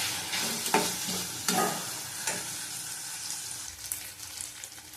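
Onion, capsicum and chilli stir-fried in a pan, with a steady soft sizzle and several louder scraping stirs near the start, then a quieter continuous fry, close and with no voices.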